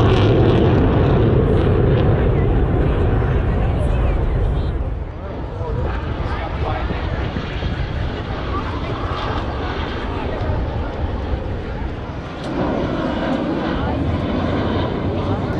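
F-16 fighter jets fly over the 2023 Atlantic City air show with a loud, sustained jet roar lasting about fifteen seconds. The roar dips briefly in the middle and then surges again, and voices can be heard beneath it.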